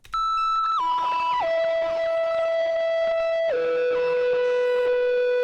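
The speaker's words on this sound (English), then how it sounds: "I used this guitar as a preset and messed around with it a bit so it just is more crispy and sounds more distorted." A crispy, heavily distorted lead guitar preset made in FL Studio plays a loud synthetic melody that steps down in sustained pitched notes, with rapid panning glitches jumping between left and right throughout.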